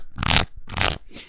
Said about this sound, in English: This is the sound of real magic cards.